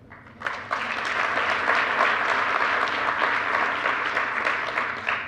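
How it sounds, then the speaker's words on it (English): Conference audience breaking into applause at the closing session, a dense, even wash of many hands clapping that swells in quickly and holds loud and steady for several seconds. "So again, applause for Valerie."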